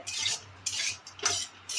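A spoon scrapes and stirs cashews, almonds and raisins in ghee in a pan in four short, rhythmic strokes, with a faint sizzle underneath.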